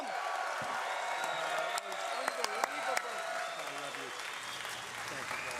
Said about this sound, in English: an enthusiastic crowd, and Donald Trump is very happy